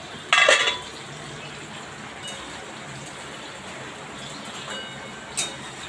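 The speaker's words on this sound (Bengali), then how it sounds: "একটু ঢাকনাটা খুলে দেখি।" Lid lifted off a cooking pan of fish paturi simmering on low heat: one short metallic clatter near the start, a faint clink later, over a quiet kitchen background.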